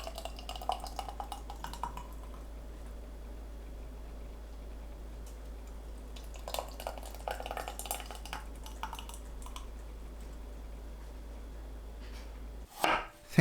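One knob of ginger is sliced with a knife on a cutting board, heard as two separate bursts of quick, crisp taps, close and fairly quiet over a low steady hum. A sharp knock comes at the end.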